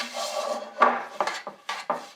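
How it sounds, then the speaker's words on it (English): A pastry brush spreads melted butter around the inside of a cake pan, giving quiet scraping and rubbing strokes in a few uneven bursts, with no talk. "simply use a pastry brush to spread this butter around"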